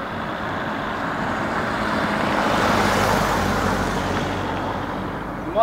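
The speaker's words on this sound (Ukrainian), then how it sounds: "Тільки зараз така машина поїде секундочку." A car drives past outdoors on a road, a broad steady roar that swells to its loudest near the middle and fades slowly, heard alone without talk.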